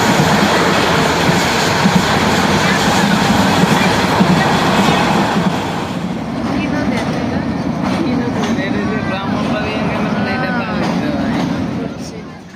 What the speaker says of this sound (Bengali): তো চলো ট্রেনের সাউন্ডটা শুনে নিই কীরকম।